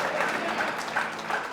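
A church congregation claps together in a short, dense burst of applause filling the room, with no talk over it.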